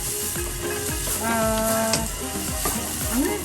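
Ginger and shallot fry in hot oil in a pan for chicken tinola, a steady close sizzle with crackling pops and brief stirring scrapes throughout.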